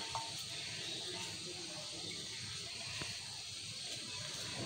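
Chopped garlic sizzling in hot desi ghee in a pan, a steady soft hiss and crackle that holds evenly throughout at a fairly low level.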